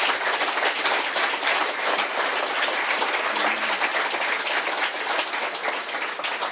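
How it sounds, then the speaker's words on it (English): An audience at an annual lecture on the Kingston Harbour cleanup project applauds its lecturers, a dense, steady wash of many hands clapping at once that holds loud and even from start to finish with no talk over it. "give one final round of applause to our lecturers"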